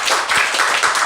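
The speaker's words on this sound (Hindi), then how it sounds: "तालियां एक बार और हो जाएं" A gathered audience gives a brief burst of clapping, close and fairly loud, a quick patter of hand claps lasting about a second.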